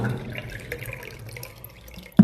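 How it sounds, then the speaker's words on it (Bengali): Water is poured steadily into a measuring cup to make tea, a soft trickling stream that ends in a brief louder splash. "এইভাবে কাপ মেপেই জল নিই চা করতে গেলে"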